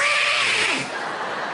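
A comedian vocally imitates a cat's caterwaul, a drawn-out, wavering yowl that swoops downward and then fades, alone and close.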